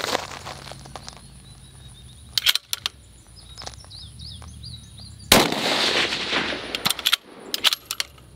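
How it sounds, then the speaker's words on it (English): Rifle shots fired from a tripod at a 400-yard target outdoors: two sharp, loud reports a few seconds apart, each followed by a long rolling echo, with faint birdsong and quiet ambience between. "So let's go ahead and take two more shots. Same 400 yard, 2 MOA target using this method."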